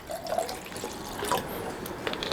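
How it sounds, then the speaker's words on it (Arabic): Water is poured into a juicer: soft trickling and dripping with faint splashes, quiet and close, with no talk over it. "تعالى نحط شويه ميه كده"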